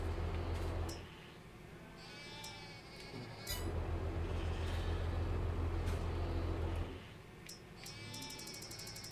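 Sheep in the Farming Simulator 22 video game give a few wavering bleats, spaced seconds apart, over a constant low mechanical hum of the farm scene.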